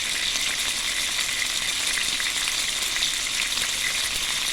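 Skinless chicken breasts fry in hot oil with a dense, steady sizzle that holds at an even, loud level for the whole stretch, with no talking over it.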